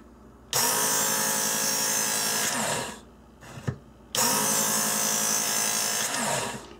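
A knife is pulled through a motorized belt sharpener in two steady passes, each a harsh, loud grinding hiss lasting about two seconds, separated by a short pause with a brief clatter.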